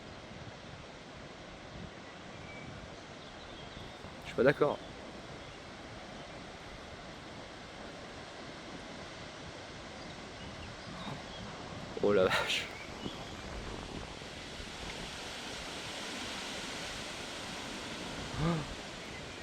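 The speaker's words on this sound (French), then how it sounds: "Non mais le bruit du vent." Strong wind rushes in steady gusts during a thunderstorm in Isère, a broad low roar that swells in the later part, with people speaking in brief excited exclamations over it.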